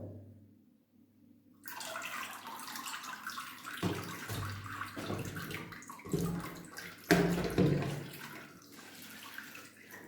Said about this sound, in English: I basically just water around the plant, and the water will wick out to the outside